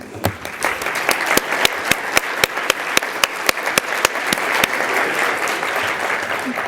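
A meeting audience gives a steady round of applause, dense continuous clapping with some sharp individual claps standing out, lasting several seconds.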